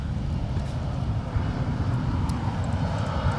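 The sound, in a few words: SkyWest Embraer E175 airliner landing at LAX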